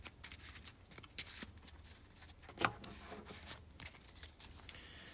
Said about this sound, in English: Do another shuffle there.